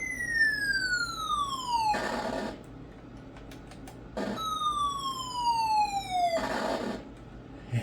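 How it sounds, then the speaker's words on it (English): Tandy 1000 SX computer sound effects: two long descending electronic tones sweep downward, each ending in a burst of noisy static, with a short noise blast between them, loud and close. "I do like the sound effects on this computer"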